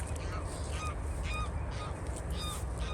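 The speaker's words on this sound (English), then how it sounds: "Grey legs, you can hear grey legs." Greylag geese honk repeatedly at a distance over Crossness Nature Reserve, a wetland, in winter, with short nasal calls scattered through steady wind and background noise.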